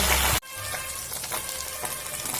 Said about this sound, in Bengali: অল্প অল্প করে মাছগুলো উল্টে পাল্টে ভেজে নেব